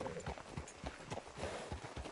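Horse hooves clip-clopping in Red Dead Redemption 2, a steady run of close, distinct hoof falls across the whole stretch, with faint game ambience underneath.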